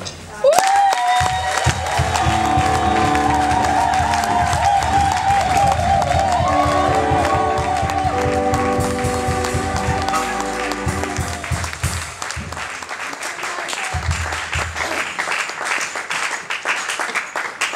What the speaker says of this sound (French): Est-ce que maintenant on peut acclamer pour le roi des rois?